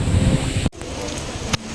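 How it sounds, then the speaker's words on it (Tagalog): Rain falls steadily during a storm at People's Park in the Sky, a soft, continuous hiss that briefly cuts out and then resumes at a lower level. "Maligo na sa ulan."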